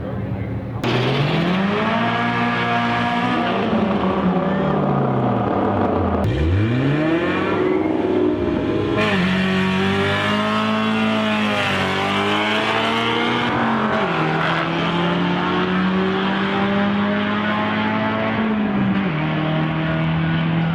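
A drag racing car on drag radials launches hard, its engine revving high and dropping through gear shifts in a loud, sustained roar, with people talking over it.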